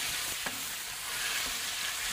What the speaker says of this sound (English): We're just going to drop our chicken in there and start stir frying this up. And you can hear that sizzle already.